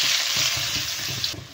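Soaked chowmein noodles dropped into hot oil, a loud close hissing sizzle with soft low bubbling, steady for a moment before easing slightly.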